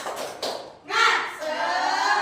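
Schoolchildren in a fourth-grade class, led by their teacher, do a rhythmic spirit clap. Two quick claps are followed by a burst of voices chanting together, with more claps and voices close by.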